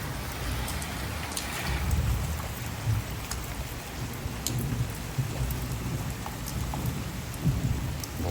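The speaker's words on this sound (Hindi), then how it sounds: "बहुत तेज़ बारिश हो रही है" Steady heavy rain in a morning storm pouring down continuously, a dense hiss with low rumbling underneath and no voices.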